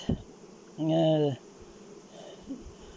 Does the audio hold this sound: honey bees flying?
yes